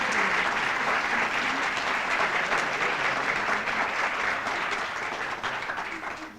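An audience at a university research lecture award event gives sustained applause as speakers come to the stage, a dense steady clapping that holds for several seconds and then tapers off.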